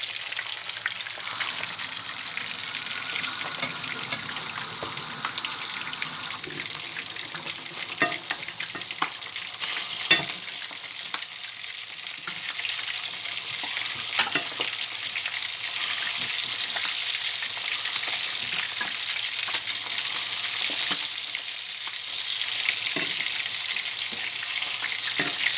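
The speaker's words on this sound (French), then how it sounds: "Pendant ce temps, les légumes sont en train de cuire à feu doux." Vegetables and onions cooking slowly over low heat for sea bream with onions: a steady, close frying hiss with faint crackles and occasional soft utensil taps and stirring, continuous throughout with no talk.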